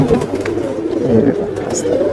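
Desi pigeons coo softly and repeatedly close by, mixed with rustling and a voice talking over them.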